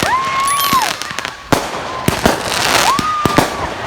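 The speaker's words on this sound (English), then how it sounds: "We come to watch fireworks" Canada Day fireworks go off with sharp loud bangs and crackles, a few distinct blasts spaced across the stretch, and rising whistles from launching shells pass overhead between them.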